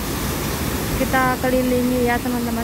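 An artificial waterfall with real-looking rocks in a park, heard as a steady broadband rush of falling water throughout, with a person talking over it.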